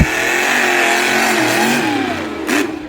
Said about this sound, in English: Ooh, listen to that truck sing.